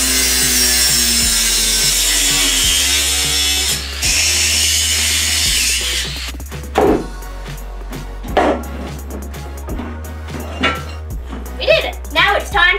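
Loud continuous power-saw cutting through a furniture trolley frame for the first six seconds, followed by scattered scraping and knocking handling sounds, close by.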